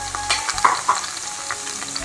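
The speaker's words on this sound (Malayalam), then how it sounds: "അരിഞ്ഞു വെച്ചിരുന്ന ചെറിയ ഉള്ളി ഇഞ്ചി വെളുത്തുള്ളി പച്ചമുളക് ഇതെല്ലാം കൂടെ നമുക്ക് ചട്ടിയിലേക്ക് ഇട്ട് കൊടുക്കാം" Chopped shallots, ginger, garlic and green chilli, salted, sizzle steadily in a hot pan, with a soft continuous crackle and a few sharper pops and stirring scrapes up close.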